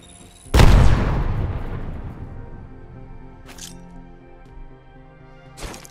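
Arc Star grenade thrown in the video game Apex Legends: a sharp loud crack that decays into a long crackling electric rumble, followed by two short bright bursts later on.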